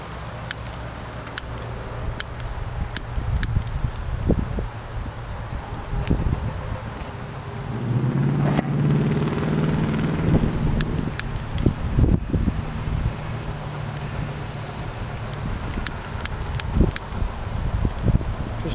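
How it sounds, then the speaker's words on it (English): Gusty wind buffets an outdoor setting by a rocket-style pipe burner, a steady loud rumble with irregular rushes and crackles, rising stronger in the middle and persisting throughout. "Too much wind."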